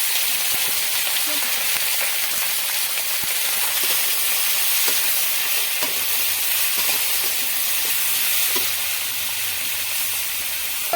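Vegetables sizzle steadily in a pan for a spinach and prawn dish, a continuous broadband hiss with faint scattered clicks and a low hum underneath, with no talking.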